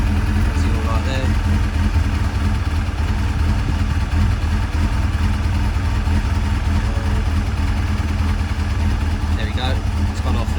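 A Honda CBF 600 motorcycle engine idles loud and close, a steady low rumble that holds evenly from start to finish, with faint traces of a voice underneath.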